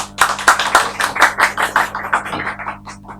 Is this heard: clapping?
yes